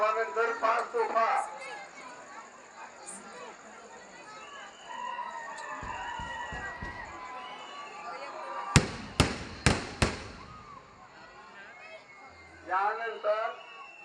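Firework cannons, five shots set off after a Raj Darbar display, boom in a quick run of sharp bangs at an outdoor festival, amid a crowd's steady chatter and children's voices, with more crackling bursts near the start and end.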